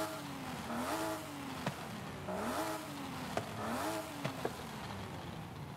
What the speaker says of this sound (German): wenn ich alleine schon den Motor aufheulen lasse